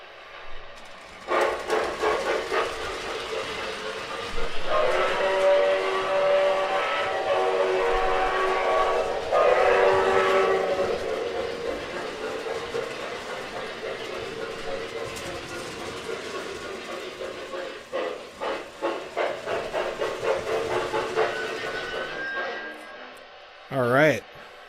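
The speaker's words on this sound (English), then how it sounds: "I'm actually going to run this engine around." A model train locomotive runs around its track, with a steady rumbling clatter that swells and fades as it circles, rhythmic clicks over rail joints and a brief whistle-like tone near the end, while people talk over it.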